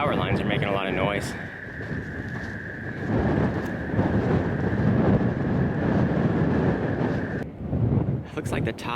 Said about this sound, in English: Power lines are making a lot of noise.